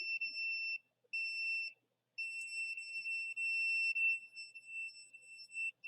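A smoke detector sounds a loud, shrill beeping alarm in repeated long bursts with short gaps, close by and alone with no talking.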